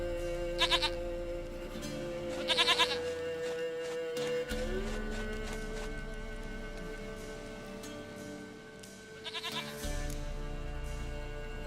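Goat bleats from The Witcher 3: Wild Hunt, three short bursts spaced across the stretch over a steady game ambience with soft rain and a background music bed, no talk.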